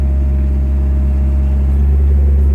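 A heavy excavator engine idles with a steady, loud, low rumble that holds unchanged throughout, with no voices.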